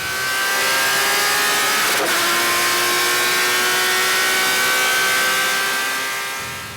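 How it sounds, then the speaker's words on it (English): A Porsche 996 GT3 RS race car engine revs steadily at high pitch, loud and sustained, with a brief shift blip early on before the whine continues and fades slightly. "Fantastic, powerful motor."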